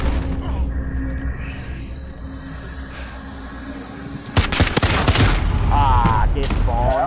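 Gunfire in Call of Duty: Modern Warfare (2019) during a Gun Game match, with a dense burst of rapid shots and booms in the second half, mixed under steady game noise and excited talk.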